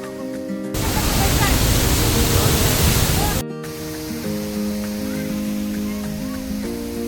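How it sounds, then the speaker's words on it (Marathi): A few seconds of loud rushing water from a spring at Khadakwasla Dam near Pune, then a quieter steady wash under tonal music. "इथे बघा किती सुंदर पाण्याचा झरा आहे"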